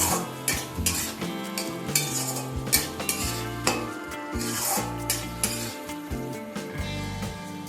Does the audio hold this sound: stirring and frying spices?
yes